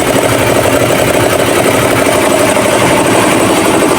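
A 2023 Mitsubishi Xpander engine idles loud and close, a steady, even mechanical drone with constant vibration and no variation or voices.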